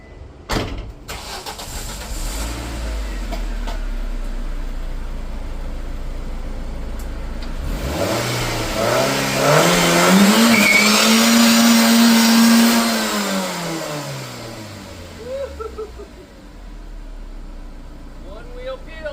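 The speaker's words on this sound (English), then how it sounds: "One wheel peel, baby." A Ford ZX2 doing a one-wheel-peel burnout, its engine revving up to a loud, sustained high howl while the spinning tire roars, then winding back down, with voices talking near the end.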